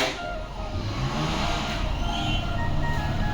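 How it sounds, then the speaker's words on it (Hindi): Scooters and motorcycles on a street in Barsana, engine drone and traffic hum running continuously nearby, one vehicle revving as it passes. "स्कूटर मोटरसाइकिलें चलती हैं"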